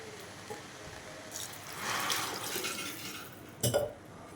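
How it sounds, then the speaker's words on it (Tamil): Water pours steadily into a pressure cooker pot of rava for biryani for a few seconds, fairly quiet, ending with a metallic clunk. "1 கப் அரிசிக்கு 2 கப் தண்ணி ஊற்றுவோம். அதே மெத்தடில் தான் இப்போ ஊற்றுறேன்."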